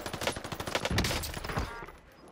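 Rapid video game gunfire, a dense fusillade of sharp overlapping shots for about two seconds, then a tail of fading reverb.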